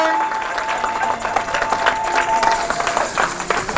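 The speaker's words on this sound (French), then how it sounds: "Acclame très fort le Seigneur." A church congregation applauding loudly during a worship service, dense clapping and crowd noise sustained throughout with some voices mixed in.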